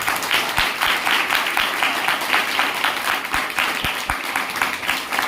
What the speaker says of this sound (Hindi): एक बात परमेश्वर के लिए जोरदार ताली बजाएंगे।